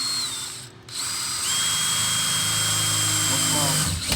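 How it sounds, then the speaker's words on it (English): A power drill bores holes for a duct detector installation, starting with a short burst and a pause, then running as a loud, steady, whining drone for several seconds. "All right, go ahead and drill the holes."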